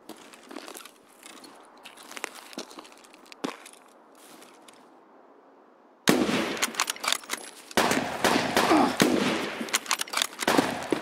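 Gunshots in the shooter Escape from Tarkov: a quiet stretch with a few sharp distant cracks, then a sudden loud volley of rapid, closely spaced shots that continues in heavy bursts.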